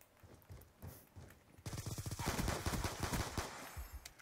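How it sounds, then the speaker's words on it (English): Automatic gunfire in a Black Ops 2 one-on-one match: a quiet opening with a few scattered shots, then rapid, sustained bursts of fire that continue to the end. "Okay, I started shooting a lot"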